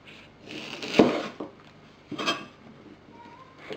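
A knife slices through a banana heart (puso ng saging) on a cutting board, giving a couple of sharp chopping knocks with faint scraping between them, close and clear with no voices.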